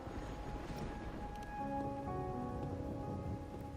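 Steady rain falls in the video game Kingdom of Amalur, a soft, even patter on surfaces with faint tonal music notes sounding quietly beneath it.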